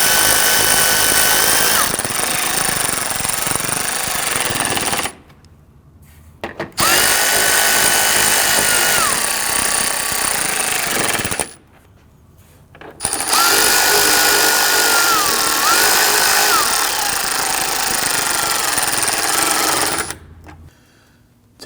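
A power tool snugs down radiator bolts on a 2010-2019 Ford Taurus, a loud high whirring drive in three long runs of about five seconds each, separated by brief quiet gaps, with no talking.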